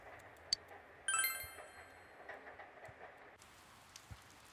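Rain in the video game Persona 4 Golden, a faint steady patter behind a short bright chime, with soft scattered drops and clicks throughout.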